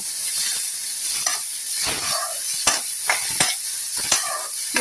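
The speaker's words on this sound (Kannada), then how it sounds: "ಟೊಮೆಟೊ ಮತ್ತು ನೀರುಳ್ಳಿ ಕಟ್ ಮಾಡಿ ಇಟ್ಕೊಂಡಿದ್ದೇನೆ, ಅದನ್ನು ಕೂಡ ಹಾಕ್ತಾ ಇದ್ದೇನೆ. ಸ್ವಲ್ಪ ಮೆತ್ತಗಾದರೆ ಸಾಕು, ತುಂಬ ಏನು ಫ್ರೈ ಆಗಬೇಕು ಅಂತಿಲ್ಲ" Chopped tomato and onion sautéing in a pan for mint chutney, with a soft, steady sizzle broken by repeated sharp spatula scrapes and knocks against the pan, close and clear, with nobody speaking.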